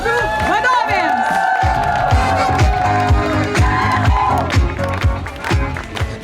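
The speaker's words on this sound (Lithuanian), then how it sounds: "Plojimai grupių vadovėms." A lively group claps and cheers for its women group leaders at a cycling volunteers' gathering, with whoops and shouts rising over steady applause and voices calling out throughout.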